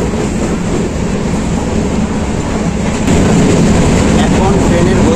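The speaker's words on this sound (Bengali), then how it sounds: "এখন ট্রেনের গতিবেগ রয়েছে 130 কিলোমিটার পার ঘন্টা।" The Padatik Express runs at about 130 km/h, heard from inside the coach as a loud, constant rumble and roar that grows slightly heavier partway through.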